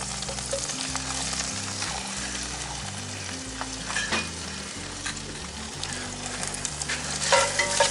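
Diced apples sizzle and fry in a hot cast iron pan on a grill, a steady bright crackle interrupted by sharp scraping stirs, with a low humming background and a louder burst of sizzling near the end.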